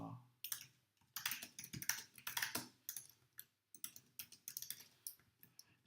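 Typing on a computer keyboard produces quick, irregular bursts of close key clicks with short pauses between them, heard alone in a quiet room.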